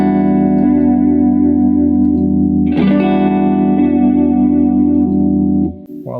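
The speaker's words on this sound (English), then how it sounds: "you can hear when I turn it off and on that it's boosting the gain." Electric guitar through a chorus pedal, a sustained distorted chord ringing loudly with a shimmering effect; near the middle a brief click and swell marks the pedal switching, lifting the gain before the chord fades near the end.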